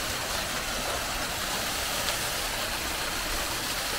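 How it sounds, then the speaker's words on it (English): Constant broadband rushing water roars evenly throughout, like a nearby waterfall in Lihu'e, Kauai, Hawaii, with no voices. "That's the nice waterfall."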